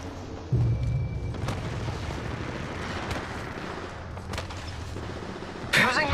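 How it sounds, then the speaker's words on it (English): A thermite grenade bursts in Apex Legends Mobile with a heavy boom, followed by a sustained roaring crackle of burning and a few sharp impacts, loud and close, ending with another bright burst. "let's hurry up and throw in thermite"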